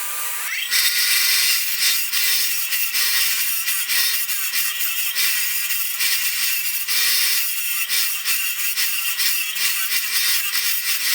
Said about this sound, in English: grind back all this paint, and I'm going to bevel the edges of this metal just a little bit